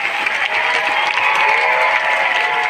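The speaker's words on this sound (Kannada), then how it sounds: "2 ಕೈಗಳನ್ನು ಮೇಲೆತ್ತಿ ಚಪ್ಪಾಳೆಯನ್ನು ತಟ್ಟಿ" Sustained applause from an audience at a high school annual function, loud and continuous claps honoring teachers, with some crowd murmur and faint cheering mixed in.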